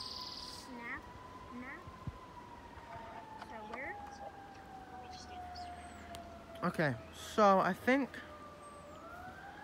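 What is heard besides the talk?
emergency vehicle siren, likely police car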